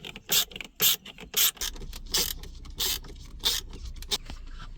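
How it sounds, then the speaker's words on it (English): Screws being refitted from the top during an Android stereo install in a BMW F20/F21/F23, heard as a series of short, close metallic clicks and ratcheting turns with brief pauses between them, with no talking. "Just push it in and put back the screws from the top."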